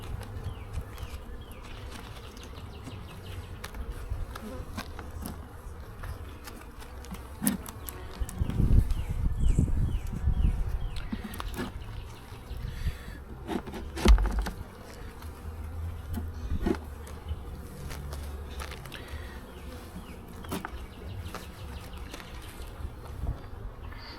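Honey bees buzz steadily around an opened hive with exposed comb, a low droning hum that swells to a louder burst midway with a few sharper knocks, no talk.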